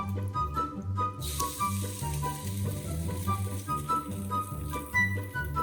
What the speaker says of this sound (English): crack an egg onto the frying pan and stir fry until golden brown.